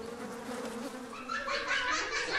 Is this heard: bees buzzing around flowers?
yes